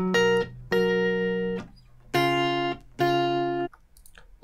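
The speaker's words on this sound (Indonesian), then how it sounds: "Kemudian kita dengerin gitar pertama." A first electric guitar track plays back in the Reaper recording software, with four sustained, distorted chords that ring out one after another and are separated by brief gaps.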